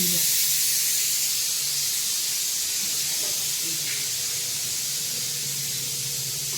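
Steady, loud hiss of steam escaping a pressure cooker boiling beans fills the whole stretch, broadband and continuous, with faint background sounds beneath it.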